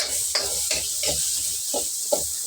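Chopsuey being stirred in a seasoned wok, a steady sizzle and hiss of frying vegetables broken by a run of spatula scrapes and knocks against the pan at an irregular pace.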